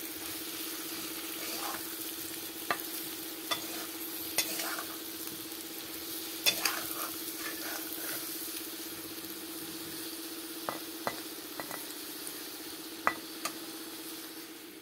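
Potatoes frying with turmeric in a pan for a potato-and-tomato curry, giving a steady close sizzle with occasional sharper crackles and stirring scrapes throughout, with no talk.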